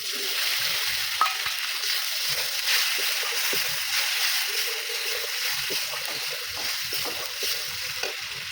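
Tomato paste and dried chilli powder frying in a pan for potol korma, a steady close sizzle with faint stirring scrapes and light splattering throughout, no talk.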